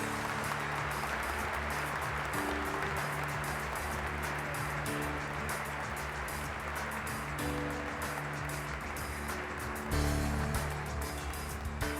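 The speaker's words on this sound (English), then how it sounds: "please give an applause and help me to thank George Heinrichs" A steady wash of audience applause at an E9-1-1 Institute honor awards gala in Washington, D.C., even and sustained throughout with a low electrical hum beneath it.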